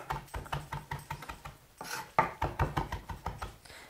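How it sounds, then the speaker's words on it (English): A knife rapidly and roughly chopping fresh thyme leaves on a cutting board, a quick run of sharp, evenly spaced close taps with a brief pause midway before the chopping resumes. "I'm just going to run my knife through it really quick."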